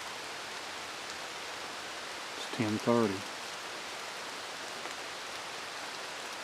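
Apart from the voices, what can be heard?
rain falling in woods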